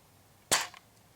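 A King Arms Blaser R93 airsoft sniper rifle fires a single 0.2 g BB through a chronograph, one sharp crack followed by a short fading tail, close and alone against a quiet room.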